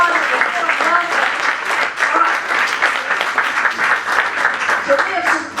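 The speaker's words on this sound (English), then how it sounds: "Give her a round of applause for that." Steady, dense audience applause at a business growth and profit-share event, loud and continuous throughout with a few voices mixed into the clapping.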